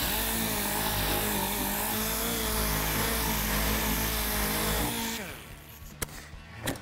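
Dense, steady power-sander noise on a car body with 320 grit sandpaper, loud and continuous before cutting off abruptly, leaving a quieter tail with a couple of sharp knocks.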